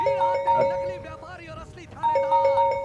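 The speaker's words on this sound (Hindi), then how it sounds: "अब जब भी कोई घंटी बजती है ना" A doorbell chimes repeatedly in a ding-dong pattern, twice in quick succession, while people talk over it.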